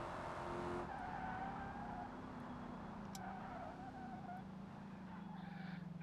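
A race-prepared Crown Vic laps a track in BeamNG.Drive, its engine droning steadily at moderate pitch with faint tire squeal and a brief higher whine, heard at low volume with no clear talk.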